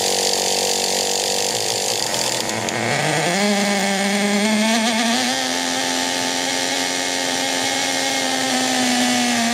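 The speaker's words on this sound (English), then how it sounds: "Even after sitting for over a decade, this engine is actually purring along pretty darn well." A small glow plug engine that sat unused for over a decade runs with a steady high buzz. It rises in pitch after a brief dip and then settles into an even drone, close by and loud.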